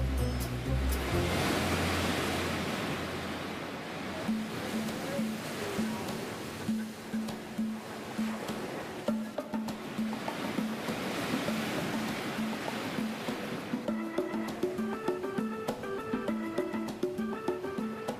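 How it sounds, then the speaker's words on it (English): Rough ocean surf breaking near rocks on the Portugal coast, a loud, continuous roar of waves rising and falling with wind noise, while music plays faintly beneath the crashing water. "Today's conditions put us at risk of getting smashed into the rocks by rough waves."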